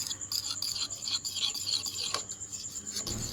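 A fork beats egg pitha batter made with rice flour in a bowl, giving quick close rasping scrapes and light taps in an uneven rhythm, with no voices.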